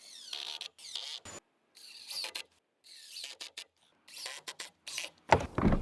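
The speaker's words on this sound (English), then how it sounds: "I've got to screw this board to this board." Stainless screws are driven into pressure-treated lumber boards for a floating dock, heard as repeated short bursts of whirring, ratcheting drill noise with brief pauses between them, close and fairly clear.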